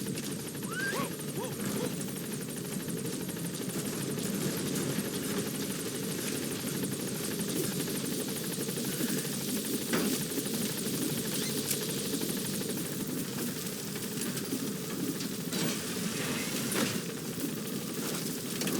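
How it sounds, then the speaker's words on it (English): A support helicopter from the video game Metal Gear Solid V sits at a landing zone and lifts off, its rotor and engine a loud, continuous thrum throughout, with faint radio-style voices over it. "Support helicopter has arrived"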